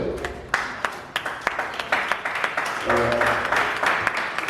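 A wedding congregation breaks into applause during a nuptial blessing, a close, steady patter of many hands clapping with sharp individual claps standing out, while a voice speaks briefly beneath it.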